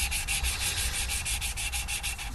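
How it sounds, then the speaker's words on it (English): Valve lapping on a Subaru cylinder head valve, turned back and forth with a suction cup tool: a steady, continuous gritty rubbing with even rhythmic strokes, close and alone with no talk. "put suction cup on valve. So zen in the art of valve lapping."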